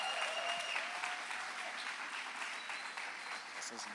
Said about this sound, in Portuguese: a igreja quer aplaudir vocês